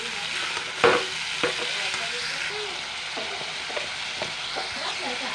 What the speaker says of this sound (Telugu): చికెన్ బాగా నూనెలో కలిపే విధంగా కలుపుకొని చికెన్ బాగా ఫ్రై చేసుకోవాలి